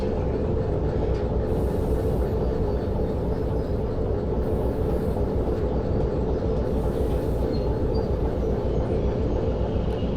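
Train in the Derail Valley game rumbling steadily as it slows on approach to a turntable, with a continuous low rail drone and clatter throughout, no talk.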